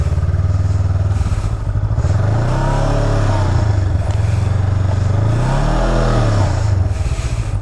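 Motorcycle weaving through a tight cone practice course for an endorsement test, its engine loud and close throughout, pitch rising and falling with repeated revving and throttle changes as it turns.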